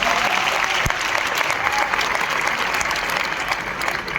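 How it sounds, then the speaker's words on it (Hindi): Loud, sustained clapping from a large audience at an RCM Diwas company event in Bhilwara, a dense continuous patter with a few sharper individual claps standing out, no voices over it. "एक बार तालियां बजनी चाहिए।"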